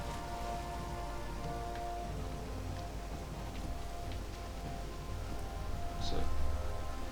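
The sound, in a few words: rain in the video game Valheim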